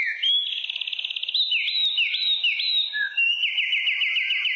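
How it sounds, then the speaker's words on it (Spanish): Bright, electronic-sounding trills and warbling chirps in quick repeated phrases, close and clear against a silent background, resembling a bird singing. "escuchar los pájaros cantar"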